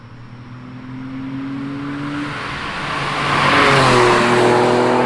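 A Porsche 996 911 C4S accelerates steadily, its engine note climbing in pitch and growing louder toward the end, heard from on board as a continuous rising drone with no talking.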